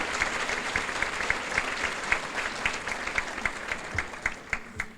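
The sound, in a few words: round of applause at a charity luncheon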